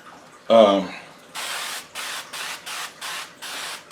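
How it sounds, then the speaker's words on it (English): A short burst of noise, then five quick hissing sprays of duck fat from an aerosol can onto New York strip steaks in an even rhythm, close and fairly loud. "spray them with some duck fat, spray duck fat"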